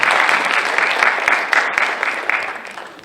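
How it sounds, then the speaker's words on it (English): A concert audience at a fundraising event gives a steady, dense burst of applause, loud and close, with claps rolling continuously for a few seconds before easing slightly at the end. "Give a big round of applause."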